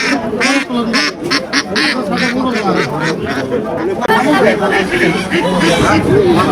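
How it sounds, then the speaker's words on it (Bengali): Many ducklings quack in a busy, overlapping chorus, mixed with people talking nearby at a crowded rural village market. "এখানে দেখতে পাচ্ছি হাঁসের বাচ্চা নিয়ে এসছে"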